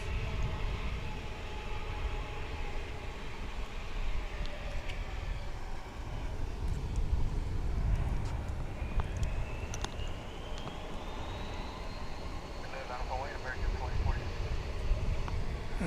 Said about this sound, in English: There's another Airbus of the 321 variety, American Flight 2019, off to San Francisco.